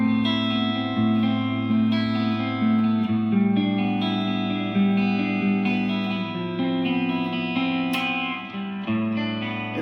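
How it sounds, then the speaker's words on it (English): Electric guitar through a Marshall JVM410HJS Satriani amp plays sustained, overdriven chords with reverb and delay, a full crunchy classic rock tone ringing steadily with no talking. "You can tell it's a Marshall from a mile away now."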